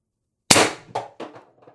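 Pistelle X-68 airgun, set to a 1000 psi adjustable regulator, fires an ABS-coated 10.1 g steel ball: one sharp, loud crack followed by a few quick decaying rattling echoes, with no voices.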